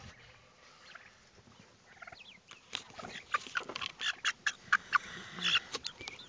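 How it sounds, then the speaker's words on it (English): Silver laced turkeys gobble in a run of sharp, warbling bursts that grow louder and more frequent toward the end, with faint rustling and clucks underneath. "I've got a couple turkeys."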